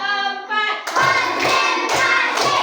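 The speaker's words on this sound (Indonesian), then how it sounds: "kita tepuk satu dulu ya." Children in an elementary school classroom clap in unison, several sharp group claps following a counted rhythm, loud and close, with a voice speaking before the clapping.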